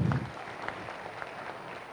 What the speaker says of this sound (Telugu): ఆ ప్రొవిజన్స్కి ఒకసారి గట్టిగా చప్పట్లు కొడదాం.